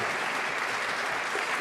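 An audience gives a round of sustained applause at a community gathering, a dense, steady clatter of many hands clapping with no voices over it.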